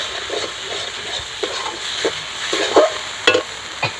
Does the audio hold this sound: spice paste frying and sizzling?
yes